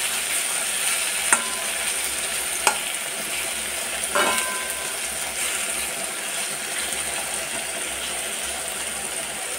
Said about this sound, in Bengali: এই দেখুন এদিকে মূলোটা কত সুন্দর ভাজা হয়ে গেছে